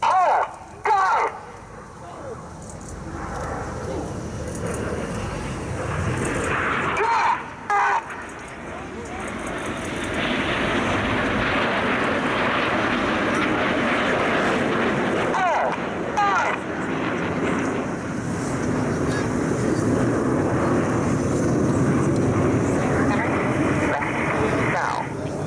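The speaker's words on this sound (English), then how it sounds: "The inside pilots perform tight match rolls to the outside of the formation in the rollbacks." Red Arrows jets fly a formation display with rolls at an Armed Forces Day show, giving a loud, sustained roar that swells and holds for most of the stretch, with wind buffeting the microphone.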